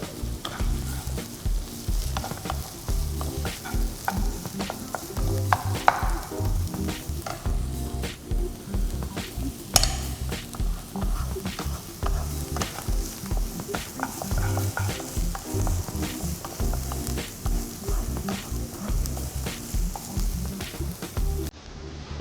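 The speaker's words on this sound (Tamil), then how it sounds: "வெங்காயம் நல்லா வதங்கி வந்ததுக்கப்புறம்" Chopped onion and ginger sautéing in a pan for palak paneer, a steady close sizzle broken by regular scraping and stirring strokes throughout, with no talking.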